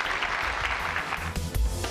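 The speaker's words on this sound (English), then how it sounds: "Please clap for Jesus Christ." A congregation applauds at a T.B. Joshua Ministry church service. Dense, moderately loud clapping from many people fills the room, with a few heavier thumps toward the end.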